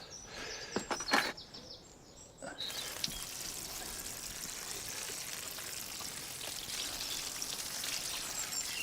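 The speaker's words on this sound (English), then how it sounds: "what you want to do is then cover that with water" Water poured over plant material packed into a bucket: a steady, continuous wash of pouring and splashing that runs without a break after a few brief clatters at the start, fairly close, with no talk.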